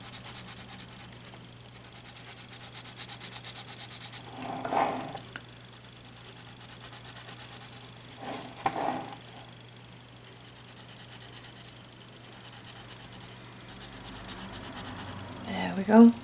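A charcoal pencil shades over colored pencil on paper with soft, steady scratchy rubbing strokes, broken by a few louder scraping bursts spread across the stretch.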